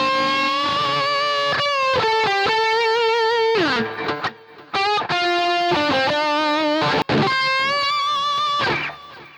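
An electric guitar runs through a GP-5 with SD1-style distortion and a boost, playing a loud, sustained overdriven lead line of held notes and bends with short breaks between phrases.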